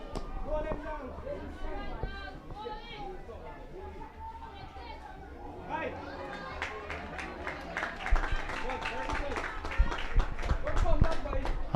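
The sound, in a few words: audience applause at a cricket match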